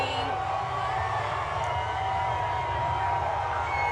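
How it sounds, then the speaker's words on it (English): A dense crowd roars steadily at the Oklahoma City Thunder NBA championship parade, loud and continuous, with a voice talking over the cheering. "Oh, the crowd is going crazy."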